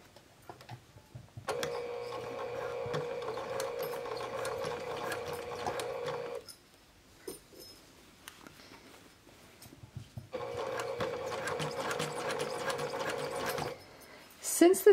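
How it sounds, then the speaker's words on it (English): A sewing machine stitches a casing along the interior fold of a small fabric gift bag, running in two steady bursts of about five and three seconds with a pause between them where it stops and starts. "I'm going to be stitching close to the interior fold"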